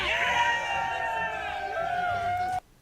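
A rally crowd cheers and shouts, with loud, sustained whoops and cries in many voices that cut off sharply near the end.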